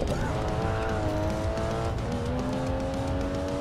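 A race car in the Racing Master video game roars loudly, its engine pitch climbing and shifting through gears, with tire squeal mixed into the dense game audio.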